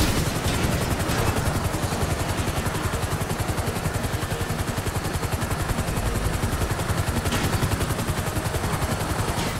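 Helicopters in the video game GTA 5 thrum continuously with rapid rotor chop, mixed with bursts of gunfire, dense and steady.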